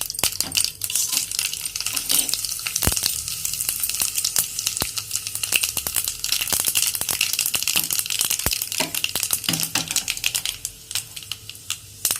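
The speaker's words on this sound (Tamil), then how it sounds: "ஒரு தாளிக்கிற கரண்டியில் 2 ஸ்பூன் எண்ணெய் விட்டு ஒரு 1/2 ஸ்பூன் கடுகு, நம்ம கிள்ளி வச்சோம் இல்லையா அந்த காஞ்ச மிளகாய் போட்டு தாளிக்கணும்" Mustard seeds and dried chillies spattering in a small tempering ladle of hot oil, a dense crackle of sharp pops and sizzle close up, steady throughout with no talk.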